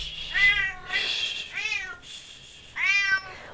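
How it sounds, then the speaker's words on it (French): A female house cat meows three or four times in drawn-out, rising and falling calls, close and fairly loud, in a quiet indoor setting with short pauses between meows. "Elle a envie de vous miauler dessus."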